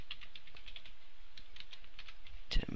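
Quick, light keystrokes on a computer keyboard while writing PHP code, coming as a steady run of close clicks and ending with a louder clattering burst.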